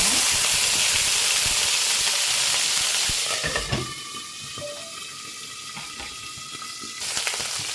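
Green chillies crackle and sizzle in hot oil in a pan. The frying is loud and steady at first, then settles into a quieter hiss with a few bubbling pops.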